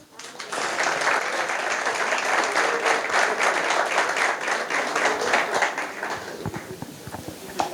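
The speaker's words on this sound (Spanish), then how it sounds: "el primer aplauso que me gustaría que se dieran es a ustedes por venir aquí" A lecture audience at a university conference hall gives a round of dense, steady applause that holds for several seconds before thinning into scattered claps.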